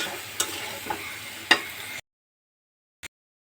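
Potatoes and bottle gourd greens stems sauté in a pan with a low sizzle and a few spatula clacks over two seconds, then near silence broken by one brief tap.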